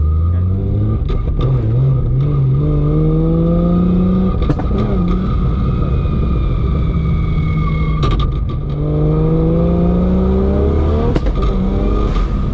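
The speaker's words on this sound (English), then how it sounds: "It's making the cool pops now" A Barra-swapped GT350 engine revs hard through no-lift sequential shifts, loud and close, with sharp exhaust pops and crackles breaking in between the rising pulls.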